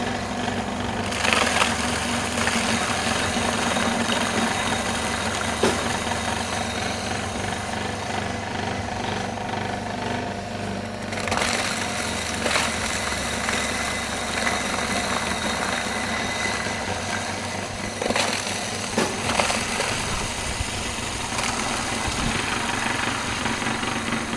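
A cheap mini grass chopper machine runs steadily and loudly for the whole stretch, a continuous motor drone with rattling, broadband grinding texture and brief load changes, with no talking over it.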